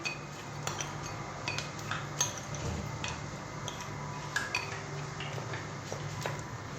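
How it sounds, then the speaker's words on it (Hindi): Flour and crispy crushed chips being stirred together in a bowl as a chicken coating, giving faint scattered clinks and ticks of a utensil against the bowl over a low steady background hum. "फिर इस मिक्सचर को अच्छी तरह मिक्स कर लूंगी"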